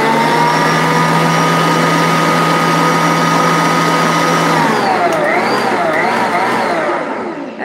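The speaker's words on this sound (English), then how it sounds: "Do you like the mixer? I love this mixer." An electric kitchen mixer runs steadily with a whirring motor hum, then its pitch wavers and dips as the load changes before it winds down, close and fairly loud with no talk over it.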